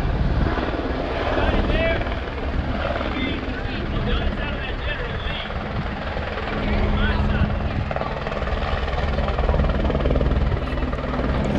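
A helicopter hovers close by, lowering an actor onto the roof of the General Lee car before a stunt jump, its rotor roar loud and constant throughout with voices underneath.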